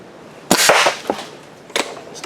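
Paintball marker firing GI Hellfire paint through a 695 barrel, a few sharp close pops spaced irregularly, each with a brief hissy burst.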